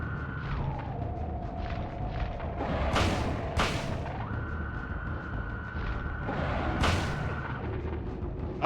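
Shotgun blasts in the Silent Hill video game: a few loud, sharp booms stand out over a steady droning background tone, spaced a few seconds apart.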